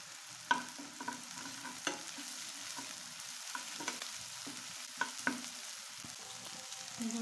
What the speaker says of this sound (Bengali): আমার পেঁয়াজ রসুন কাঁচামরিচটা ভাজা হয়ে গেছে।